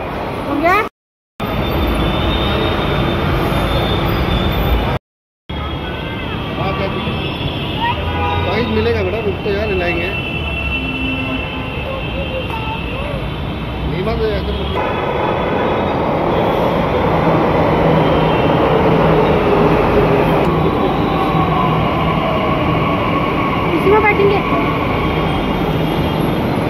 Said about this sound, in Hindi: मेट्रो में बैठे हो ना?